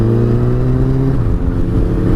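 Motorcycle engine revving steadily at close range, a strong droning tone that holds and then dips slightly midway before resuming, alone with no talk.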